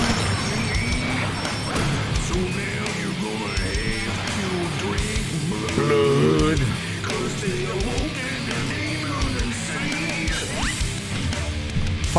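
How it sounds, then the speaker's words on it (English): In the video game Slayers X, repeated crashes of glass breaking punch through a busy music track, the sharp smashes scattered across the stretch. "I gotta break more glass."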